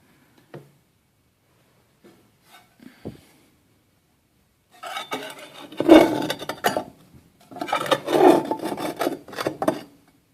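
Ash scraped out of a small V-bottomed woodstove in a tiny house gives a few faint taps, then two longer bursts of gritty metal-on-ash rasping close by.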